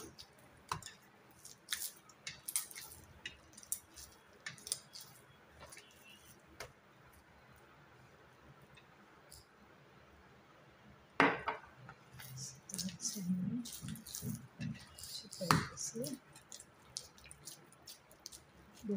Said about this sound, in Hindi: हमने थोड़ा थोड़ा पानी का छिड़काव करना है और इसको इस तरह से मिसलना है।